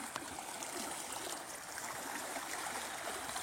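Water being swirled into a whirlpool by people moving around in it, a steady broadband rushing and churning that continues unbroken and fairly close throughout.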